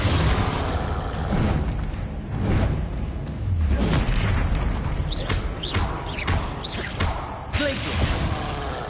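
Confringo fire spells cast during combat in the Hogwarts Legacy video game, producing repeated booming blasts and whooshes over a dense, busy layer of game effects.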